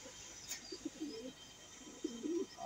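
A pigeon coos close by in a bird loft, with two short bursts of low, throaty cooing separated by a pause over quiet background noise.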